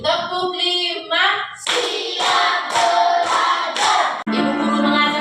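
Fifth-grade pupils clap in unison to a counting chant, several evenly spaced loud claps between stretches of sung voices, ending on a final clap.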